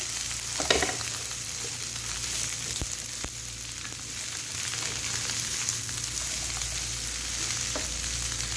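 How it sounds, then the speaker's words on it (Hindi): Okra (bhindi) fries in a pan with a dense, steady sizzle, close by, with a few light clicks of stirring scattered through. "मैं इनको फ्राई कर रही हूँ"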